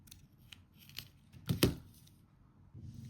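Scissors trim the excess string on a beaded kandi strawberry, giving two or three quiet, close snips amid faint handling rustles.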